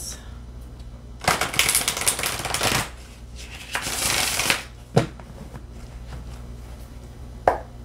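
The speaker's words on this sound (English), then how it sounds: "Let's shuffle two more times." Tarot cards being shuffled in two riffling bursts, followed by a few sharp taps and snaps as the deck is squared, with faint background hum.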